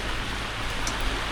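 Rain beginning to fall outdoors during a pond drum filter installation, a steady, close, even hiss of drops with no voices.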